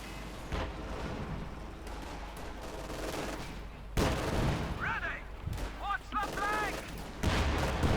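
Bursts of gunfire and battle noise in the real-time strategy game Company of Heroes 2, a 1v1 match, with steady crackling shots and impacts throughout under a commentator's voice.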